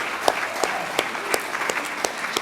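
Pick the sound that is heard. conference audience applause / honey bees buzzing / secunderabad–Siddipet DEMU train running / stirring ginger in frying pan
conference audience applause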